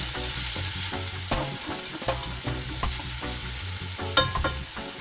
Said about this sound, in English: We just stir.